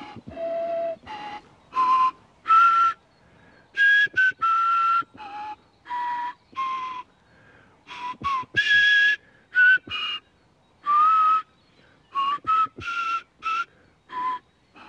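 Reconstructed prehistoric flute of mammoth ivory or bird bone playing a simple tune in short breathy whistle-like notes and phrases separated by brief pauses, close and alone.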